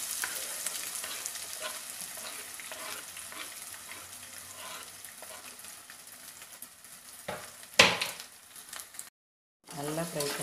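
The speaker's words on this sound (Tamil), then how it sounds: "நல்லா ஃப்ரை பண்ணிக்கோங்க." Sliced large onions fry in a pan for an egg curry, a steady crackling sizzle with stirring scrapes and a sharp clatter near the end, then a brief gap before frying resumes.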